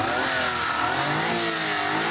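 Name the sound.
mini van engine revving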